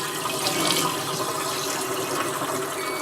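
Rinse water is poured off quinoa by hand in a kitchen sink, a continuous splashing, gushing pour of liquid that stays fairly steady throughout with no voices.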